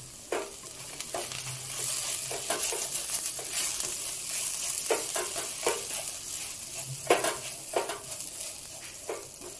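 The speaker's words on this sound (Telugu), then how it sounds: "కొంచెం గరం మసాలా వేసుకొని ఒకసారి బాగా మిక్స్ చేసేసుకుందాం" Vegetables with turmeric, chilli and garam masala stirred in a hot frying pan: a steady oily sizzle broken by repeated scraping strokes of a spoon, close and alone with no talking.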